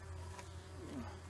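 Honey bees fly around a newly boxed hive outdoors, a soft continuous buzzing drone with a low steady hum and a passing nearer buzz, fairly faint and without any talking.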